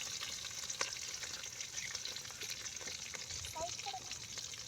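Curry leaves crackle and sizzle in hot oil with a steady broadband frying hiss throughout, a few faint clinks of a utensil stirring the pan.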